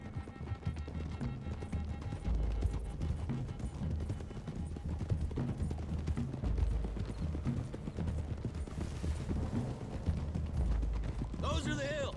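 Horses gallop in the Red Dead Redemption 2 video game, a steady stream of hoofbeats running throughout, mixed with game voices and background sound.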